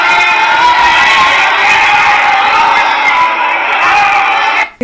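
Members of parliament shout and yell together in a legislative chamber, a loud, dense wall of overlapping voices and jeers sustained without pause before cutting off abruptly at the end.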